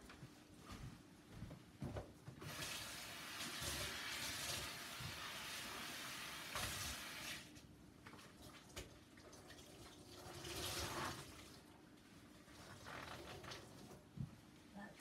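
Water rinses a drying painting canvas, a broadband wash of running water in two main bursts, one long stretch early and a shorter one later, with quieter handling noises between.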